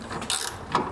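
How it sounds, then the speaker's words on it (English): A ratcheting wrench on a bolt of an Audi A4 B8 front lower control arm, giving a few quick, close metallic clicks and clacks over a brief moment. "so I'm just going to get my ratcheting wrench"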